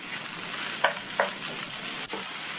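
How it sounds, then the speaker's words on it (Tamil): Mashed raw plantain stirred and frying in oil, a quiet steady sizzle with two brief scrapes of a spoon against the pan, close and fairly soft. "இந்த வாழைக்காயை நல்லா எண்ணெயிலேயே மறுபடியும் நல்லா இந்த மாதிரி பரட்டி விட்டுக்கணும்"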